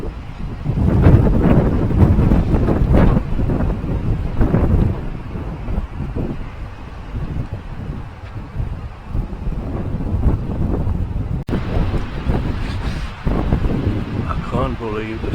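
Strong storm wind gusts through an open gorge during a wildfire-season windstorm near Portland, Oregon, a steady roaring rush that swells and buffets the microphone while someone talks over it.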